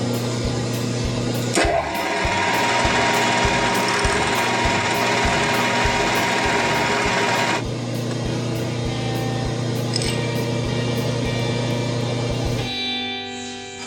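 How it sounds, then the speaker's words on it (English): A whirring drill runs at steady speed, its tone changing as the bit, with a drop of kerosene, cuts holes into aluminum, then winds down near the end. "Put a drop of kerosene on the drill bit there."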